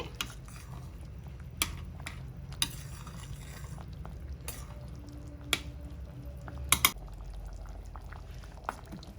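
Egg sambar bubbles in a pot while the eggs are stirred and turned, a low steady simmering hiss broken by a few sharp clinks and scrapes of a utensil against the pot.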